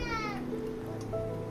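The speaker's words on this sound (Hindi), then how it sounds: "आपको मेरी बेटी की पीछे से आवाज़ आ रही होगी रोने की" A young girl cries in the background of a home kitchen, a brief, faint wail that fades within a second.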